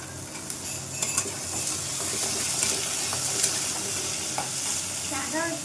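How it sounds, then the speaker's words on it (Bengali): Chickpeas frying in a pan with onions already browned, a steady close sizzle with occasional stirring scrapes and clinks throughout. "পেঁয়াজটা লাল লাল হয়ে গেছে ছোলাটা দিয়ে দিলাম"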